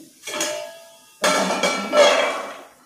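Metal pieces clank and ring as a pressure cooker is set up, two distinct clattering knocks with a lingering metallic resonance.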